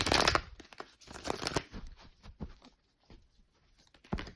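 Tarot cards shuffled by hand close up, quick soft riffling and papery flutters in short bursts separated by brief pauses, with no talk.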